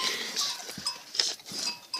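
Goats bleating on a farm during milking, several short calls scattered through the scene at close to moderate distance, with bright higher tones and no voices.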